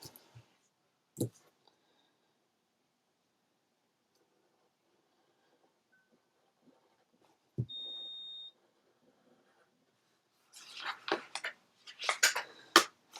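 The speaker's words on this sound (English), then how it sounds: "my printer's apparently beeping at me for some unknown reason" A printer gives a short electronic beep once amid quiet clicks and handling noises during papercrafting with a craft knife, followed by a burst of rustling and tapping close by.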